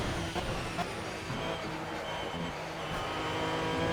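An Aston Martin Vantage V12 GT3 race car at Monza in Project CARS makes a steady, loud engine drone that continues without a break and climbs a little toward the end, with no speech.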